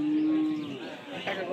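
A cow lows once in a long, steady moo at a busy Rajshahi cattle market selling cows and heifer calves, fairly close, with faint market chatter behind it.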